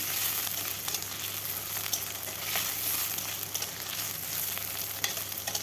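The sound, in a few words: potatoes frying in a pan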